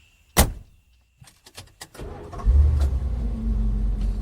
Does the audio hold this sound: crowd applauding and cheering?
no